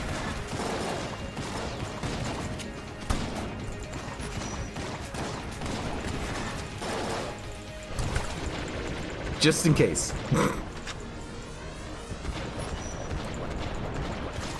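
Rapid gunfire from the Siren gun in Enter the Gungeon, dense bursts of video game shots with a louder cluster of blasts near the end, while a player talks over the action.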